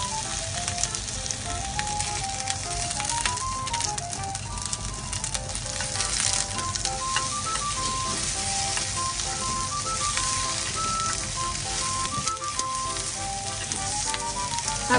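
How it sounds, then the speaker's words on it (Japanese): Sausages and bell pepper frying in a pan, a steady close sizzle running throughout beneath a light melodic background tune. "ウインナーとパプリカを焼くよ"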